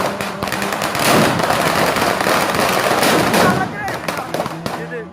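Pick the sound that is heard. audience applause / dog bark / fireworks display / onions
fireworks display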